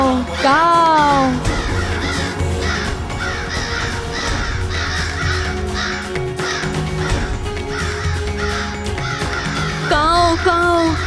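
A crow caws in repeated harsh bursts, several calls in quick runs separated by short pauses, loud and close over a steady low background.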